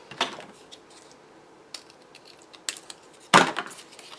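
Scissors snip through a paper strip for a scrapbook layout, giving a few sharp crisp cuts at close range, with one loud snip near the end and small paper rustles between them.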